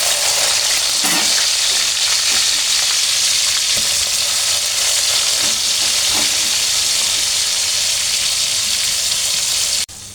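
Ginger paste, garlic paste and chopped onion fry in hot oil for meat, giving a steady, close sizzle and hiss with occasional stirring scrapes and no talking.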